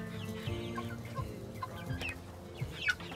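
Buff Orpington and blue Andalusian chickens, cockerels and a pullet, clucking on a Zone 3 homestead, with soft overlapping calls and a few sharper squawks near the end, fairly close and moderately loud.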